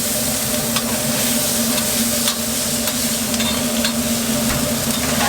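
Peppers and onions sizzle and get stirred on a hot griddle in a food truck, a steady loud frying hiss with occasional scraping clicks, no talking.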